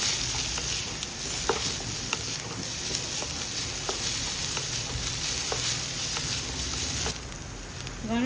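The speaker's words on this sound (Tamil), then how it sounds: "வெங்காயம் இப்போ பொன்னேரமாக வதங்கிடுச்சு." Onions sautéing in a pan for chicken sukka, a steady close sizzle and hiss with occasional scrapes of a stirring spoon, continuous with no voices.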